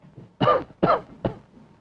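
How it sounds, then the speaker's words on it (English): Three short, sharp coughs from a man during a medical exam come close together, each a little weaker than the one before, with quiet between them. "Cough, please."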